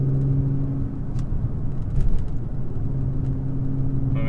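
An Audi B8.5 S4 with an EPC light and a misfire pulls hard in third gear, a low, steady engine rumble heard from inside the car at moderate volume, with no one speaking.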